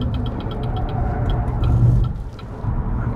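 A BYD Seal electric car accelerating flat out on a damp race track, a loud low rumble of road and drivetrain noise that swells briefly, with faint ticking above.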